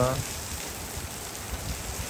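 Rain pours over paddy fields as a steady, even hiss of drops, continuous and moderately loud, with a brief voice at the very start.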